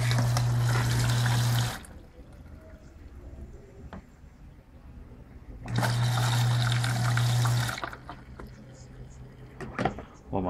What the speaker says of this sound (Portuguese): Ela vai iniciar a entrada de água.